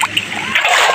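Water splashes and splatters from a bucket in a village setting, a short close burst of sloshing spray filling the moment with broadband hiss.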